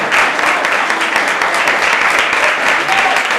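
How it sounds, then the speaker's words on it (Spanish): Congregational applause at an evangelical church service, a dense, steady wash of clapping that fills the room loudly and evenly throughout, with faint voices mixed in. "Dale fuerte el aplauso a Dios"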